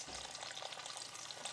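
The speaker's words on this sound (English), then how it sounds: "I am mostly not going to be talking while it sizzles" Brisket browning in a Dutch oven gives a steady, close crackling sizzle of hot fat, continuous and even with small pops throughout, no voices over it.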